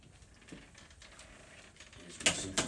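A Zarcor CloZures Patriotic shutter on an RV door window is opened and closed, giving soft mechanical rattles that end in two sharp clicking snaps near the close, with no talking.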